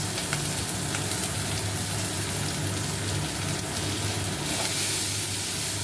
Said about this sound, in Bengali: এবারে জিরে ফোড়ন দিয়েছি, আর এবারে আমি এই মশলাগুলো দিয়ে দেব